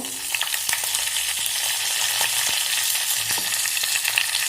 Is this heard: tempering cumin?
yes